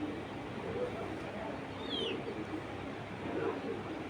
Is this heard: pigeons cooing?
yes